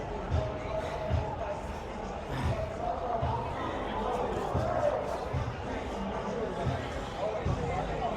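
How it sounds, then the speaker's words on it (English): An evening crowd at the Moonlight Bazaar in Saint John, N.B., makes a dense hubbub of overlapping voices and footsteps heard from within the throng, with occasional thuds and a nearby voice speaking. "Now we're going into the crowd, coming into it."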